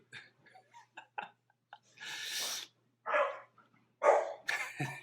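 A dog just out of a bath snorts, sneezes and huffs in short bursts, with rapid snuffling followed by longer breathy blasts, close by and fairly quiet.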